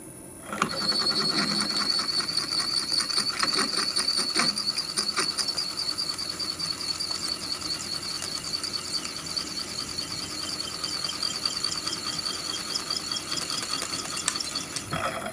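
A lathe drilling through a custom servo mount part rings with a steady high-pitched squeal and faint rhythmic chatter, running continuously and fairly loud for about fifteen seconds with no talking.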